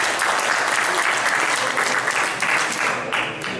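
Audience applause fills a hotel banquet hall at an alumni festival, dense steady clapping from many hands, loud and continuous throughout with no clear speech over it.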